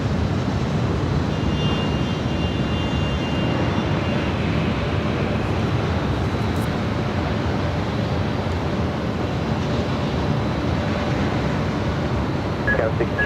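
A jet airliner takes off on runway 24 left at LAX, heard from a high hotel rooftop as a steady, loud, broad engine roar without pauses or voices.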